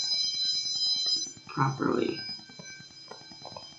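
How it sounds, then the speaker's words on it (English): An apartment building fire alarm sounds as a continuous high-pitched electronic tone, steady and loud throughout, while someone speaks over it briefly. "the fire alarm just went off."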